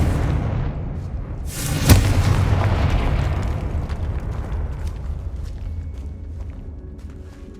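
A Confringo fire spell bursts in Hogwarts Legacy with one sharp, loud crack-boom followed by a long rumbling decay of debris and echo, no talking.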